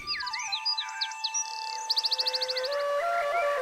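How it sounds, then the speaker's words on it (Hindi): A flock of small birds chirps and trills beside a river, with rapid repeated notes and rising whistles layered together at moderate distance. "इस समय नदी किनारे पक्षियों का झुंड चहचहाता जा रहा है।"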